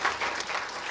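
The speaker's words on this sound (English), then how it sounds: "Let's give him another round of big applause," Dense crowd applause from a university conference plenary session, heard as a short, even burst of many hands clapping.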